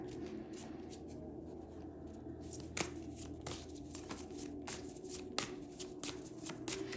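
Tarot cards shuffled by hand in a quiet room, a steady papery riffle broken by several sharp snaps and flicks as the deck is worked before a card is drawn.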